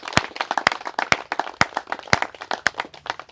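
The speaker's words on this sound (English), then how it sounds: "A round of applause for Taj, please." A small audience applauds a speaker at a Halifax commemoration, giving steady, crisp handclaps in a fairly regular patter, close and moderately loud.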